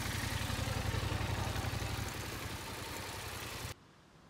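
A car engine in a learner's driving exercise on a figure-eight course, held at steady revs while the clutch is slowly released, a close continuous hum that eases after two seconds and cuts off abruptly near the end.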